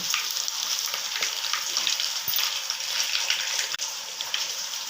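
Cumin, dried chilies, curry leaves and garlic crackle and sizzle in hot oil, a dense close spitting sound with a couple of brief clicks.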